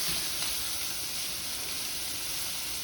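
Shrimp searing in a hot pan for gumbo, giving a steady, close, bright sizzle and hiss that holds evenly throughout.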